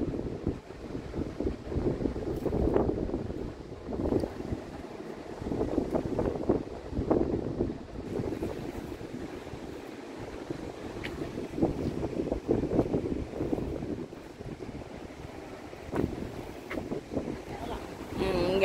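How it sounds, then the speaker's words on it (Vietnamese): Strong autumn wind gusts across the rocky coast at Portland Head Light, buffeting the microphone in uneven surges with surf in the background while someone talks over it. "Bây giờ mùa thu bắt đầu nó lạnh rồi, nó gió."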